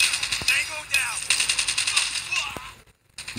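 Shotgun fire in a video game rings out in rapid, closely spaced loud blasts, with voices talking over it before a short silence near the end.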